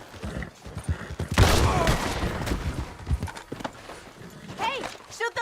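Gunfire breaks out in the video game Red Dead Redemption 2 together with galloping horse hooves. A burst of rapid shots sits in the middle, and voices talk over the game sounds throughout.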